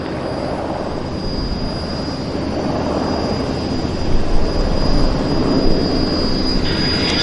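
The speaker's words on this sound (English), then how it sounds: "Climb out on the Ottawa flight." An aircraft climbing out after takeoff from Vancouver airport on an Ottawa flight gives a steady, broad roaring rumble that holds throughout and swells slightly toward the end, with no talking.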